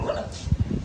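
Dogs bark in a few short, quick yaps against a noisy, rumbling background.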